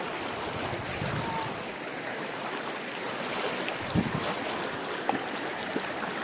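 A river near the Bhutan border rushes steadily and close, its broadband wash continuous throughout, with a few faint knocks and clicks over the flow and a touch of wind.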